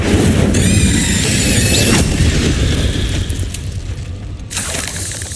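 Incendio fire spell cast in Hogwarts Legacy inside a cave, a loud roaring whoosh of flame with crackling bursts that fades toward the end.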